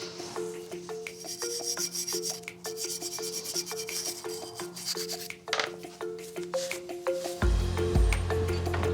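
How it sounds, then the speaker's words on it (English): Old lawnmower gears being scrubbed by hand to remove years of old dirt: close, repeated rubbing and scraping strokes in an uneven rhythm, followed at the end by a louder, rougher burst of noise. "start scrubbing up some of these gears just to remove years of old dirt"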